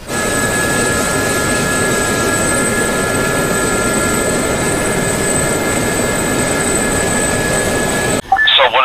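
A jet aircraft in the DCS World flight game roars loud and steady as it comes in to land, a sustained engine whine and rumble that cuts off abruptly near the end.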